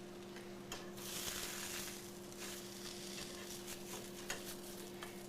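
Ghetto steaks fry in a pan with a steady, close sizzle and crackle, broken by occasional scrapes and small clicks, with a faint hum running underneath throughout.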